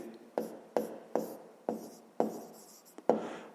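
Pen or chalk strokes writing out a math solution, six or seven distinct scratchy strokes in a steady rhythm, close and fairly quiet, with no talking.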